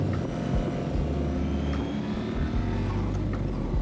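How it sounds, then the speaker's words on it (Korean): A Honda Rebel 1100 MT motorcycle engine drones steadily while riding, a low continuous exhaust rumble with wind noise, heard alone without talk. "적절한 배기음과 적절한 고동감이 확 오는데"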